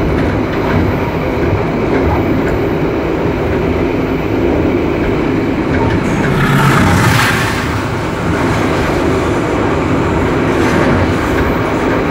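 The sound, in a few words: Jayabaya economy train arriving at Jatibarang station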